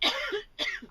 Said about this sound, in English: You're going to have to bleep out those coughs.